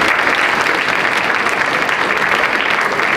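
Loud, dense applause from a crowd, steady clapping that fills the whole moment without a break.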